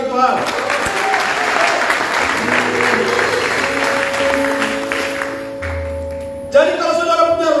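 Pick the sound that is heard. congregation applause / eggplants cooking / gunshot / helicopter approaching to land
congregation applause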